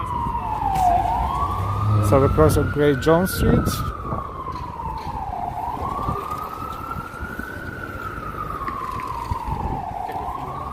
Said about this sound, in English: Sounds of New York, sirens.